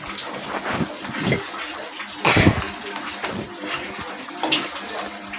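Water is poured into semolina cooking in a pan for a savoury-sweet suji dish, giving several splashy bursts and sizzles at close range, with quieter stirring sounds between them.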